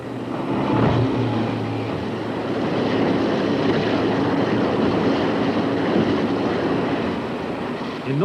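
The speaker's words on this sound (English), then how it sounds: "Now they'd been joined by a team of jet boats from New Zealand." Powerful New Zealand jet boats pound through the Congo River rapids on a 1975 expedition, a loud steady engine roar mixed with rushing water that holds for the whole stretch without a break.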